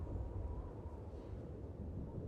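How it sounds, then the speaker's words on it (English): Howling snowstorm wind outside a shelter in the video game Genshin Impact, a steady low rumbling roar that stays even and continuous, with no voices. "you can hear the storm outside."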